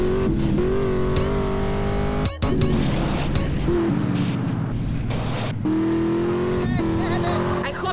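A car engine revving hard while driving fast in GTA San Andreas, a loud continuous roar with rising and falling pitch and brief dips, heavy game audio and music layered throughout.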